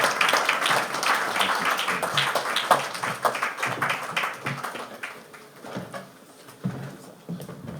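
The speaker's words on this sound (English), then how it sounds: "Let's keep clapping until he gets here." A crowd keeps clapping for Governor Seyi Makinde's arrival at the Oyo State International Business Summit, a sustained burst of many hands that slowly thins toward the end, with faint voices in the mix.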